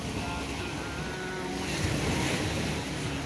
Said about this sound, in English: Listen to the wave.